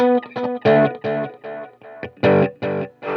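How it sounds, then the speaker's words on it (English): Electric guitar through the tape-style echo setting of a Mooer Red Truck pedal, strummed in short choppy chord stabs with soft, darkened repeats following each hit, loud and close with no talking. "Which the echo to me sounds very tape delay-ish."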